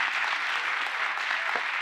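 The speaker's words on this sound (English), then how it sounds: "give the students an applause" A crowd at a town hall in Wolfson High School claps for students, a dense, even patter of applause that holds at one level throughout.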